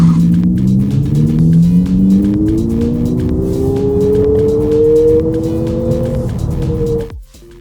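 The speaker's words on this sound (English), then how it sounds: "the sort of scrabbling front-wheel drive acceleration any hot hatch lover can appreciate" An Abarth 600e electric front-wheel-drive hot hatch accelerating hard, with a loud rising motor whine that climbs steadily in pitch for about seven seconds and then cuts off abruptly.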